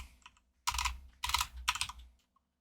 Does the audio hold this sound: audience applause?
no